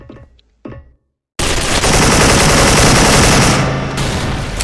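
Rapid sustained automatic gunfire from an AK-74 rifle in the video game SF bursts out loudly after a brief pause and a couple of faint sounds, continuing as a dense roaring stream.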